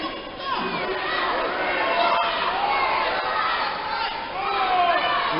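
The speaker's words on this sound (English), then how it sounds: "And the crowd letting Eddie Gonzales know what they think about him." A large wrestling crowd at a live event reacts to wrestler Eddie Gonzales with sustained loud shouting, jeering and mixed cheers, a dense roar of many voices throughout.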